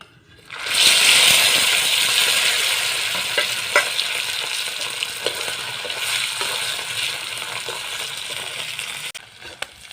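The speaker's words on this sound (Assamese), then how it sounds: "এতিয়া আলুখিনি নিমখ হালধি একো নসনাকৈ ফ্ৰাই কৰিম" Boiled potato pieces hit hot oil in a pan with no salt or turmeric, bursting into a loud close sizzle that slowly settles into steady frying, punctuated by clinks and scrapes of a stirring spoon, with no talk.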